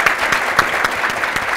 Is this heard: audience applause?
yes